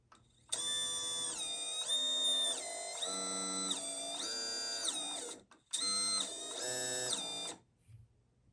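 The brushless motors of an Apex FPV drone with FETtec G4 electronics whine through a motor test, giving a loud tonal hum that steps in pitch, stops briefly, then resumes before cutting out.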